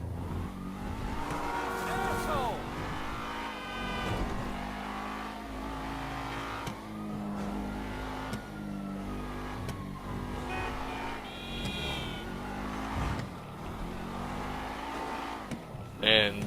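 A car engine in GTA V revs and accelerates with shifting pitch over continuous driving noise, brief tire squeals and a voice talking over it throughout.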